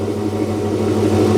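A 1964 car engine runs steadily while heat cycling, giving a close, continuous low rumble with even tone and no talk over it.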